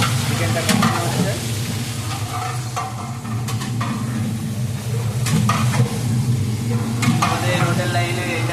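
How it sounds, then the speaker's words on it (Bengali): Chicken for dum biryani sizzles in a large pan while a utensil scrapes and stirs it, a steady frying hiss with intermittent metallic clinks, close up, with faint voices in the background. "দম বিরিয়ানি চিকেনটা কমানো হচ্ছে"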